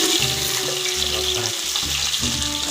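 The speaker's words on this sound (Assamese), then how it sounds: "এইপিনে মাছটো ভাজি আছে" Fish frying in a pan, a steady broadband sizzle close up, with low humming tones underneath and no talk.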